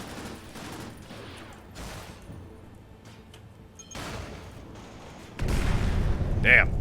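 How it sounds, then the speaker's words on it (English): A nuclear explosion in the video game Cryptark, heard as a sudden loud, broad blast that swells near the end after quieter gunfire-like crackle and bursts, with a brief high tone on top. "that's an example of a nuclear explosion"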